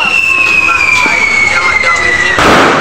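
New Year fireworks and firecrackers burst loudly and continuously at close range, a dense crackling roar with a sharp whistle sweeping through and a heavier blast near the end.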